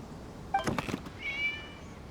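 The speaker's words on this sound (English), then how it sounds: "It was just a cat." A single short cat meow in Genshin Impact, fairly faint against a quiet background, followed by a brief high-pitched chirp.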